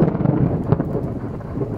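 Deep thunder rolls and rumbles through a heavy downpour at Al-Khalawiya in Baysh, Jazan, loud and close, with steady rain hissing beneath the low booming swells and no voices.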